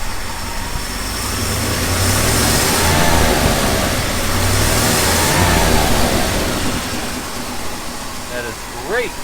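A car engine that tends to stall when the throttle is opened, an auction-bought vehicle, revs up in swelling mid-pitched surges with a steady broadband roar, loud and close, while people talk over it.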